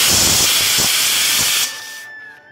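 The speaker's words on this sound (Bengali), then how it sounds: "তো আজকে দেখো প্রেসার কুকারেই সব কিছু রান্না হচ্ছে" A pressure cooker cooking rice, potatoes and khesari lentils vents a loud, steady hiss of steam for over a second. The hiss then drops sharply and leaves a thin, fading whistle-like tone.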